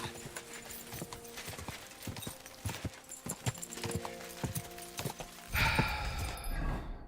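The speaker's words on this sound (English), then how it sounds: "Because the horse will run on her own." Horse hooves trot in the video game Kingdom Come: Deliverance, a steady clip-clop rhythm of distinct thuds in the foreground with a faint whinny, giving way near the end to a louder burst of rushing noise.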